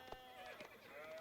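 A sheep bleating in the video game Age of Empires 4, a short wavering bleat repeated a couple of times, faint and quick.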